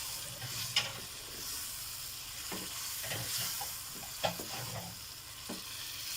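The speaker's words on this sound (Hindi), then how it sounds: "इसे हम अच्छे से मिक्स कर लेंगे।" In a pan for fried rice, biryani masala, crushed red chilli and cumin fry with tamarind water under a soft, steady sizzle, broken by repeated scraping stirs of a spoon, close and with no talk.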